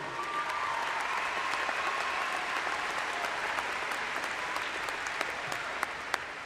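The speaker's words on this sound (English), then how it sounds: "Students, let's give them a round of applause too." Steady applause from a graduating audience at a high school commencement, honoring teachers, campus staff and administrators; even, sustained clapping fills the hall at moderate loudness with no voices.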